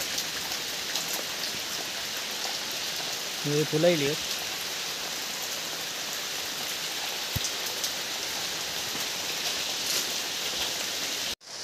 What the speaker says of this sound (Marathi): पाऊस लय मोठं चालू आहे.